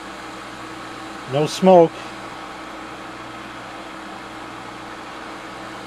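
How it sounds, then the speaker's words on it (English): The fan of a fume extractor on a NOEVSBIG soldering station hums steadily at low volume throughout, with a brief spoken phrase over it. "I have the fume extractor on and going."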